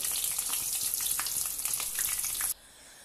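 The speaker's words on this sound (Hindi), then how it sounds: "मैं 3-3 करके करूंगी, 2-2 करके फ्राई" Snacks fry two at a time in hot oil over medium-low heat, a steady close crackling sizzle that cuts off abruptly near the end.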